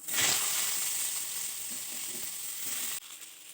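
Broad beans hit hot white oil in a wok with a loud hiss at first, then settle into a steady sizzle, with faint stirring scrapes before the sound drops abruptly near the end.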